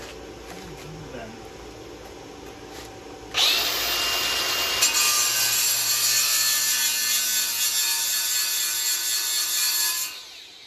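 A power grinder cuts into a metal part while rock sliders are being fabricated. It starts abruptly after a few quiet seconds and runs as a loud, steady, harsh whine for about seven seconds before stopping.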